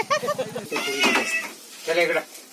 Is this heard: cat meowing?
yes